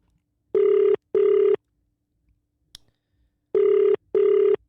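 A telephone call rings back in two pairs of loud electronic tones, each pair a short double burst, separated by a quiet pause with a faint click.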